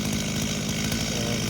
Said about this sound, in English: the weight of the chainsaw just comes down through the cut nice and easily